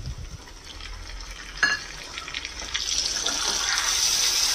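Tomato, garlic and dried and green chili paste go into a hot pan for Nepalese spicy potato curry, a steady crackling sizzle rising and spreading after a brief splash as the paste lands, continuing close and even.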